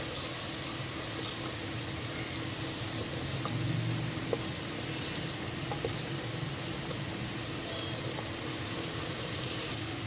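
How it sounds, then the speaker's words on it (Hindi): Onion and garlic frying in a pan with tomatoes going in, a steady broadband sizzle running throughout with a few faint clinks, close and continuous, no voices. "अब मैं डाल रही हूँ टमाटर।"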